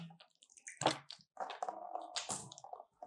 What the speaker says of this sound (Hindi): 3 मरतबा आपने अपने हाथों को इस तरीके से धो लिया है।